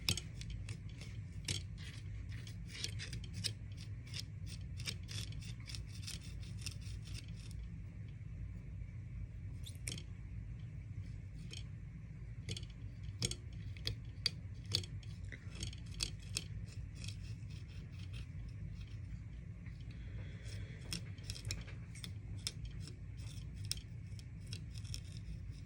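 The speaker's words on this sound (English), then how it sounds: "Can also use the tip of your scissors to get up in there." Scissor tips pick and scrape at dubbing material on a fly-tying vise, a run of quick, faint snipping and scratching clicks in close, quiet surroundings, steady and dense with brief pauses.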